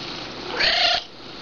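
A pet cat gives a single drawn-out meow, close and fairly loud, lasting under half a second amid quiet room tone.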